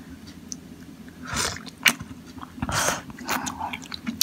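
Someone slurps and chews a spoonful of hot meatless macaroni soup with carrots and onion, with a few wet sips and bites spaced across the moment, close up, with no words.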